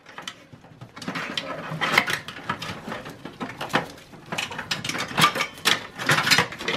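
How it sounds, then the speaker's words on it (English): A SATA power connector being worked loose from the optical drive inside a Dell Optiplex 780 desktop, with close, dry plastic clicks, rattles and scraping handling noises arriving in irregular bursts throughout, no voice over them. "You're gonna move the SATA power right here from the optical drive."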